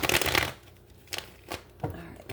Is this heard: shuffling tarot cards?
yes